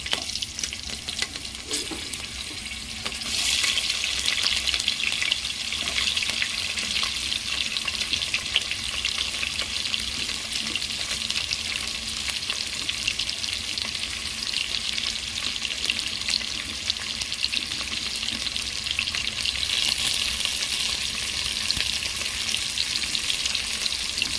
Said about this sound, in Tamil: ஸோ கோல்டன் கலரில் வந்ததுக்கப்புறம் வெங்காயம் போடுறோம்.